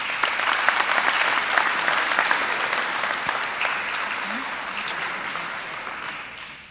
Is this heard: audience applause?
yes